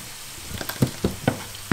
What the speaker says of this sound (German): tue ich da jetzt noch ein bisschen Butter rein